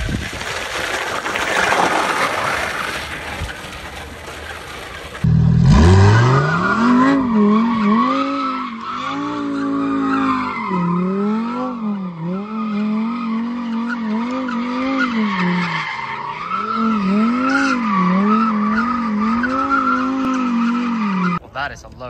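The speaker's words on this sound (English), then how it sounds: "within 2 seconds of getting here, we were asked to do some donuts" A car spins donuts, tyres skidding and squealing loudly in long wavering howls that rise and fall for most of the run, with engine roar underneath after a burst of rough noise at the start.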